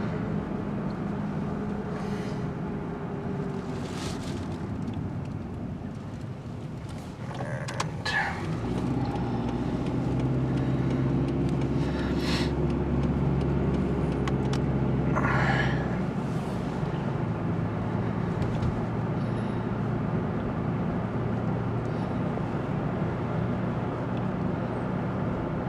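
A car engine starts up and runs with a steady low rumble, continuing loud and close after a sudden jump in level, with a few faint clicks and brief sounds over it.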